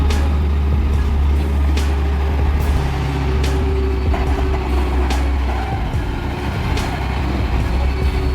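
A heavy truck grinds up a curve on a steep mountain pass, its engine droning loud and low throughout. Someone talks over it, and sharp clanks and hisses break in at intervals.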